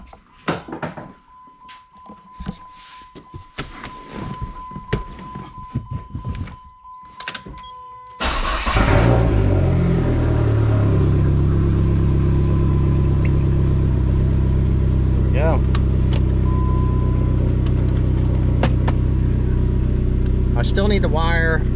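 Dodge Neon SRT-4 engine started and idling after an engine swap, first some clattering shop noise and brief talk, then a steady loud close-up engine rumble that runs on continuously to the end.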